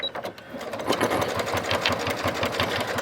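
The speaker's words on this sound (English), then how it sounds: "And I'm going to just sew around this." A sewing machine stitches steadily around a cork bag, its needle chattering in a fast, even rhythm close up, with no voices.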